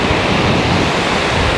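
Black Sea waves break on the beach at Anapa in a loud, continuous wash of surf, with wind rushing across the microphone and no other sounds.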